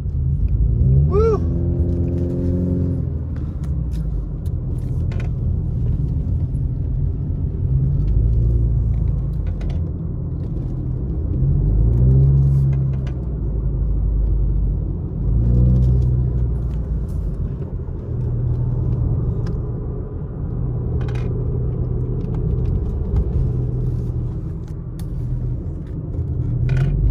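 A car drives a mountain road around Big Bear after heavy snowstorms, its engine giving a steady, close, low rumble that runs unbroken throughout with no one talking.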